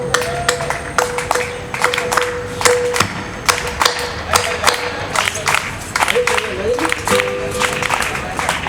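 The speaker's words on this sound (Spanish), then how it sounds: "A ver esas palmas, chicos" Rhythmic hand clapping keeps time with a Chilean cueca, the song A la mar fui por naranjas, at an outdoor vigil in a Montreal park, sharp claps repeating steadily over a murmuring crowd with a sustained musical tone beneath.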